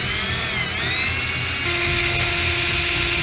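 A high-pitched drill whines steadily and loudly throughout, its pitch dipping slightly under load and then settling into a constant shrill grind.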